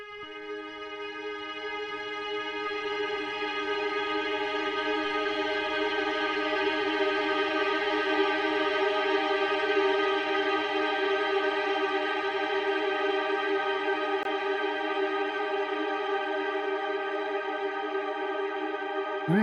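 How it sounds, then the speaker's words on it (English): A warm synth pad run through the Love granular effect plugin, washed out and smeared into a steady, sustained harmonic drone that swells in at the start and holds evenly, alone with no talking. "With this one, I'm also using the Love plugin,"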